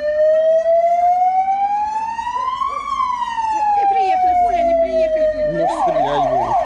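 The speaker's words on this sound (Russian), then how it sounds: "Включи сирену! Сирену включи!" Emergency vehicle siren wailing loud and close, a pitch that sweeps up and down slowly, then switches to a rapid yelping warble near the end.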